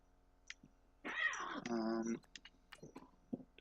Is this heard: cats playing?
yes